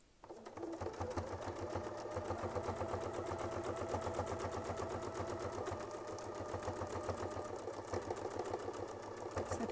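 A sewing machine fitted with a Westalee Sampler template stitches a quilt border in a fast, steady mechanical whir with a rapid needle rhythm. The stitching stays fairly quiet and runs continuously, with no talking.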